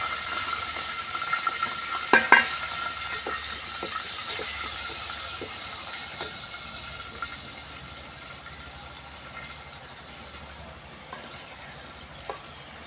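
Mustard seeds and tempering spices sizzle in hot oil for a brinjal-tomato curry in a village kitchen, a steady soft hiss with scattered pops and crackles, strongest early on, then settling into a quieter continuous fizz.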